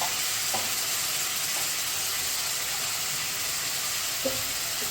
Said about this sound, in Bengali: আদা রসুনটা কষা হয়ে গেছে, এবার টমেটোর কুচোগুলো দিয়ে দেবো।